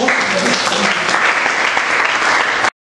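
A congregation in a Bilbao church claps for Jesus, a dense, loud burst of applause from many hands that holds steady for a few seconds, then cuts off abruptly.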